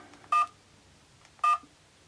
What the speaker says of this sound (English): Fixed ringtone.